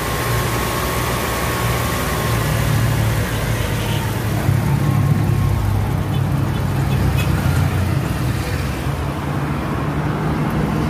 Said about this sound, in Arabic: هنشغل المحرك على 2000 لفة.